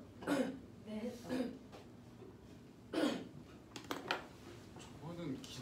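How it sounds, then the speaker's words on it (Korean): Coughs and throat-clearing from students in a Korean physics class come as several short, fairly close bursts spread across the stretch, mixed with small rustles and faint room noise. "저거는 기침"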